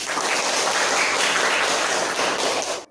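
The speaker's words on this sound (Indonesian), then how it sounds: "Ayo kita kasih tepuk tangan yang meriah." Dense, steady applause fills a classroom, many hands clapping at once at fairly close range, holding even and loud throughout before cutting off abruptly.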